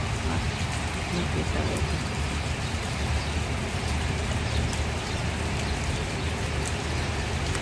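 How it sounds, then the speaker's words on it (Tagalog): Steady rain hisses across the whole clip, a dense continuous wash with a brief spoken phrase over it. "So umuulan, season day this week, lagi umuulan."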